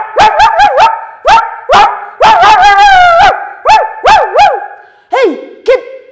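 A voice imitates a puppy's yelps and drawn-out howling whines, a rapid series of high, wavering calls with short gaps, loud and close, with no other talk.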